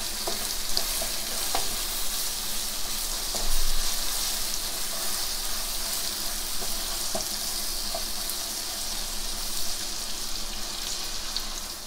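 Sliced bananas sizzling in caramel in a pan over low heat, with a steady bubbling hiss and occasional scraping stir clicks from a spatula, fairly close and with no talking.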